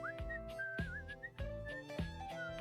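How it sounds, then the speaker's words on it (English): A game character in I'm Dating Everything whistles a light, wandering melody over a steady rhythmic musical backing with regular low beats, fairly quiet and alone without talk. "He's whistling when you walk up on him"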